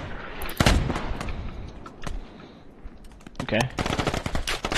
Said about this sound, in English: Bullets going into my chest.